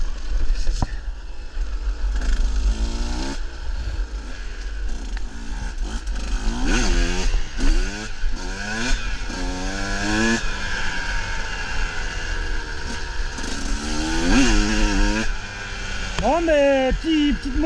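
A 2024 KTM 125 XC-W two-stroke dirt bike engine revs and climbs through gears while riding, its whining pitch rising and falling repeatedly and loud against wind noise.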